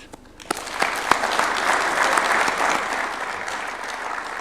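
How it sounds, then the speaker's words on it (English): A crowd at a diplomatic briefing at State House, Nairobi, breaks into sustained applause for the President after a brief quiet moment, steady clapping filling the room and holding strong to the end. "give a warm round of applause for His Excellency the President"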